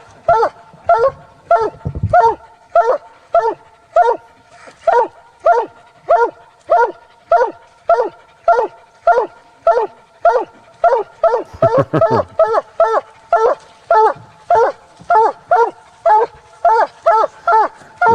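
A coonhound bays steadily at a tree during a world championship finals hunt, loud regular barks repeating about twice a second, with a brief overlapping stretch of quicker barking midway and no talk.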